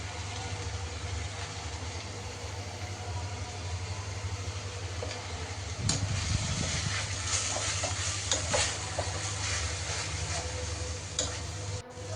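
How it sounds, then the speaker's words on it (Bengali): Fish curry bubbles and sizzles in a pan on a kitchen stove, a steady close frying hiss over a low hum, with a few stirring scrapes and clatters partway through. "তো চুলাতে মাছের তরকারিটা হচ্ছে"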